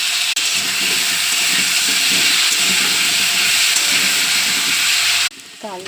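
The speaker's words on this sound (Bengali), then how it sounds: "তো আলু দিয়ে দিলাম, আলুটাকে ভেজে নেব।" Potatoes frying in hot oil, a loud, steady sizzling hiss close up that runs unbroken for about five seconds before dropping off sharply, with a brief voice at the end.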